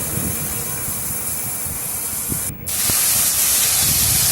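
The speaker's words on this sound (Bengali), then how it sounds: "আমি চার পাঁচটা চেরা কাঁচা লঙ্কা আমি এর মধ্যে দিয়ে দিলাম ভালো করে আমি একটু লাল লাল করে ভেজে নেব" Slit green chillies fry in a pan, giving a steady loud sizzling hiss that drops out for a moment midway and then resumes just as strong.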